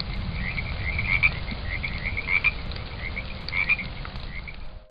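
Frogs croak in repeated bursts over a steady low rumble, the calls rising and falling at intervals throughout.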